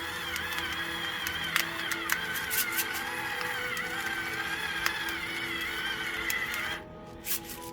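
Pepper is ground generously into a chicken and vegetable soup, a steady close mechanical grinding whir running for about seven seconds before it stops, with no talking.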